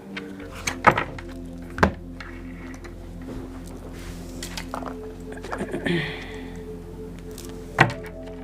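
Tarot cards are set down on a surface with a few soft, separate thumps spread over several seconds, near and fairly faint, alongside a speaking voice.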